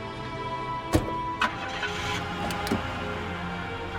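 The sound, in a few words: car engine starting as driver sets off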